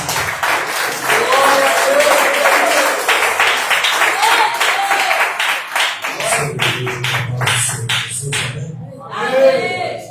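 A church congregation claps in a broad, sustained wash of applause, then the hands thin into separate sharp claps under a voice that comes in toward the end.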